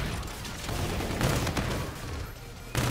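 De-Atomizer gun firing in Infinite Warfare: a series of close, sharp energy blasts with crackling bursts through the clip, loud and repeated, with faint talk underneath.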